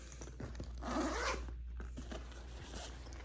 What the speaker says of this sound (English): So let's go ahead and zip that up